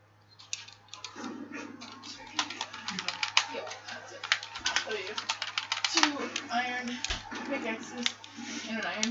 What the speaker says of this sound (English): Boring typing noises.